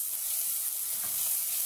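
Salt and garlic sizzle as they are sautéed in a pan, giving a steady, close frying hiss with a faint stir partway through and no speech.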